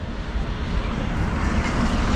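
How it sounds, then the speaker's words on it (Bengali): The Kanchanjungha Express with new LHB coaches pulls into a station, a loud low rumble and roar building steadily over a couple of seconds with no voices. "আর এই হচ্ছে আমাদের ট্রেন ঢুকে গেছে"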